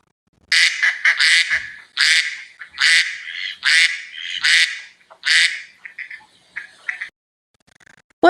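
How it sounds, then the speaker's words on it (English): A duck quacks in a series of loud, raspy squawks, about eight calls in uneven bursts, followed by softer, fainter quacks near the end, close by and with no talking. "That was a duck."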